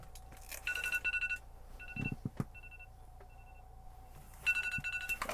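A mobile phone rings inside a small insulated tent at an ice-fishing camp, sounding in two bursts of bright electronic tones with a quieter gap of faint beeps and rustling between them.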